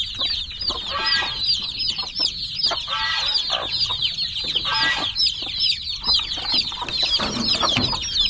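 A hen with her chicks clucks steadily at close range, mixing low repeated clucks with a constant high peeping chatter from the chicks, with no talking.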